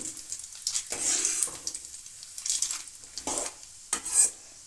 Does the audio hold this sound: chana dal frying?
yes